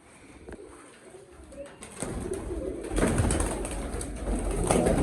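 Pigeons coo in a breeder's loft, soft throaty calls building and repeating over a busier background of bird noise, close and fairly loud.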